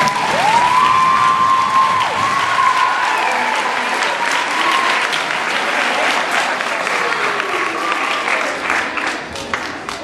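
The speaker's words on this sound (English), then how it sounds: "We give the junior counselors a big round of applause." An audience at a summer camp skit applauds the junior counselors with loud, sustained clapping. Scattered cheers and children's voices mix in, and the applause fades slightly near the end.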